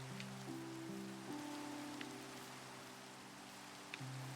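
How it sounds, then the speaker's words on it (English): Rain falls steadily as a soft, hissing wash in Minecraft. Sustained low musical tones hang underneath, and a few faint clicks surface now and then. "Well, it's raining"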